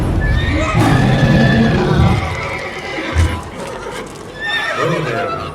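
Roach, a horse in The Witcher 3, gives a loud, close whinny that rises and falls, then snorts. Hooves clip-clop faintly underneath and a few further neighing calls follow.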